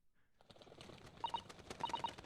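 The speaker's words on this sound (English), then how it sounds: "You even scared the pigeons with your screaming." Pigeons in the Great Ace Attorney video game flutter and coo, a short burst of wing flaps with a few soft repeated calls, fairly faint and free of speech.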